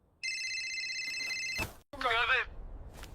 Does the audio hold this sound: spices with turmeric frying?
no